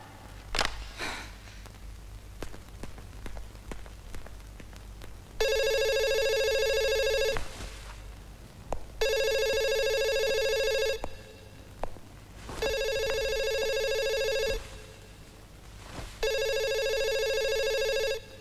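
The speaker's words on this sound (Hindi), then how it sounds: "ईशा फोन उठाओ" A telephone rings in four long electronic bursts separated by short pauses, with a few faint rustles and clicks before the ringing starts.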